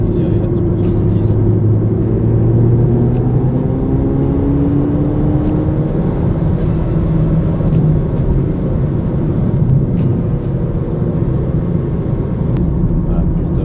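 An Audi TT with a check-engine warning pulls away on a wet road, heard from inside as a loud, steady cabin rumble with an engine tone that slowly rises. A person talks over it throughout.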